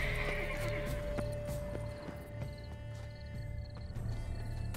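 A horse in The Witcher 3: Blood and Wine neighs clearly near the start, with soft hoof clip-clops and a sustained game ambience beneath it, and no speech over the sound.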